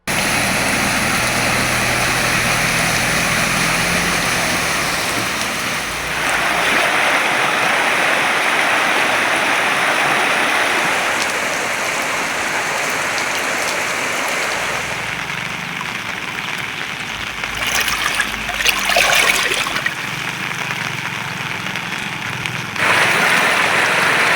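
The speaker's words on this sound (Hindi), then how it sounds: "करीब आधा किलोमीटर तक सड़क पर पानी बहने से वाहन चालकों को जान जोखिम में डालकर आवागमन करना पड़ रहा है।" Floodwater pours along a road at a railway underpass, covering about half a kilometre. It makes a loud, steady rushing roar throughout with no voices, swelling and thinning in places as the flow shifts.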